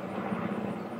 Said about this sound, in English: flyovers, helicopters pretty often here